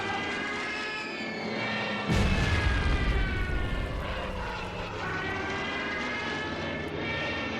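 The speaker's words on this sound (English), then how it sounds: "this is why I love my Stukas, because my 4 Stukas can eliminate an entire unit in one turn" German Stuka dive bombers drone overhead in an Order of Battle strategy game, a harmonic propeller engine whine that is suddenly punctured by a loud bomb blast and rumbling aftermath, then the engines carry on.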